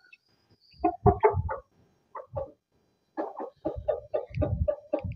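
A chicken clucks in short, close bursts separated by pauses, with some low scuffling in between.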